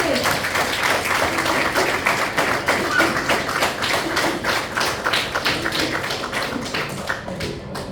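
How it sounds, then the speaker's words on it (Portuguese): A church congregation applauds the Lord together, a dense, steady wash of many hands clapping at close range that runs the whole stretch and thins slightly toward the end. "Aplauda o Senhor"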